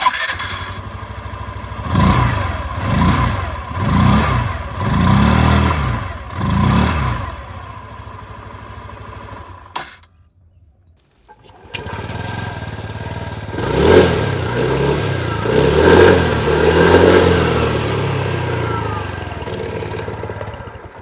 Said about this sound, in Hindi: बारी बारी से जो एग्जॉस्ट साउंड है वो भी सुन लीजिए।